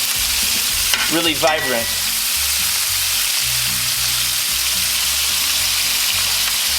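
Steak frying in a tipped pan while being basted with melted butter, alongside rosemary and thyme, produces a continuous close sizzle with spoon-like scraping and bubbling; a voice speaks briefly near the start.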